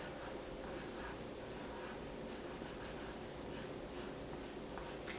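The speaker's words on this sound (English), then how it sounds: "and then I'm going to write my room number" Pencil writing on paper during a quilt lesson: a quiet, steady scratching and rubbing that continues throughout with light strokes, close to the microphone, with no speech.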